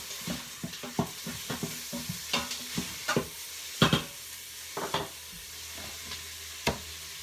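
Garlic and onion sauté in a pot while a spoon stirs them, a soft background sizzle punctuated by a quiet series of irregular scraping and knocking strokes against the pot.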